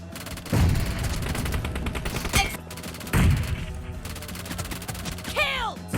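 Gunfire from the mobile game PUBG Mobile, rapid bursts of automatic shots with two heavier booming impacts, loud and close, ending with a short whistling effect.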